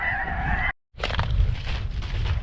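Snow geese in Arkansas calling, a dense flock of honking cries, loud and near, briefly cut to silence before the clamor resumes.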